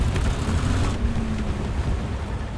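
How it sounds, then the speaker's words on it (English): A steady low tank engine rumble drones throughout in the video game War Thunder, a heavy vehicle idling or moving nearby with broadband noise on top and no voices. "I can hear some tank engine."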